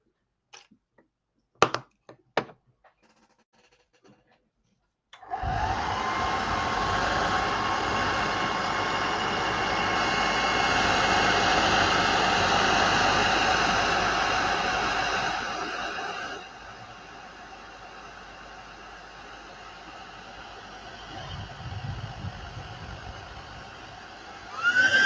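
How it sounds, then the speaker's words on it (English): A hair dryer switches on after a few clicks and runs with a steady, loud whooshing roar for about ten seconds, then drops to a quieter setting before cutting off, used while painting a miniature figure, with no talk. "Time for hair dryer."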